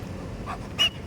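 Dog panting at close range in a short burst, soft breathy puffs with a brief louder exhale near the end, set against a quiet home background.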